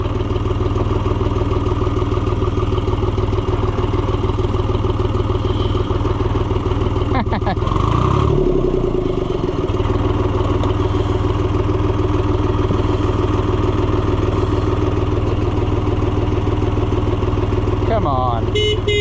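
An Oliver 1250-A tractor engine runs steadily and loud throughout with a constant low rumble and clatter, revving briefly partway through amid a brief clunk.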